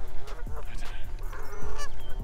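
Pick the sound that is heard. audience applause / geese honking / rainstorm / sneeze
geese honking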